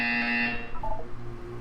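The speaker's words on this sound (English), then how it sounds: "You will hear a buzzer." An electronic buzzer from the video game Portal 2 sounds as one steady, harmonic-rich alarm tone for about half a second, then breaks off into a fainter tonal wobble and a low room hum.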